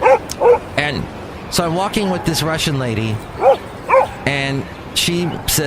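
A voice imitates a Boxer dog named Basil with a string of yips, short barks and whimpers, alternating with his ordinary speech, close and loud.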